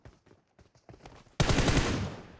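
Gunfire from the game PUBG Mobile opens with a few scattered faint shots and footsteps, then breaks into a loud, sustained burst of rapid fire.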